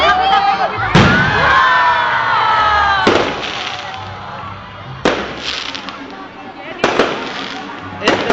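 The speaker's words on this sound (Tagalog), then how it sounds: "nagkakaroon ng fireworks display ang Enchanted Kingdom" Fireworks at the Enchanted Kingdom theme park burst in four loud, sharp booms about two seconds apart, each trailing into crackling and a hissing fade, with a crowd murmuring and someone talking between the bangs.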